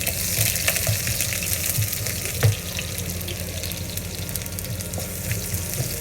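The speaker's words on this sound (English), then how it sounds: "So we saute the ginger until get the aroma, and not too brown, okay?" Ginger sautéing in a pan for Chinese-style black pepper beef: a continuous close sizzle with a brief clatter midway, no speech.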